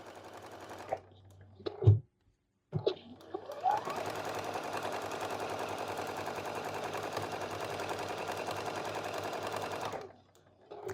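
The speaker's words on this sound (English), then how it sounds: "I can go ahead and adjust where I'm sewing and sew the other 3." Sewing machine stitching flannel inserts for vintage glass coasters, a short burst, a pause, then a long steady whirring run of stitching close by, stopping near the end.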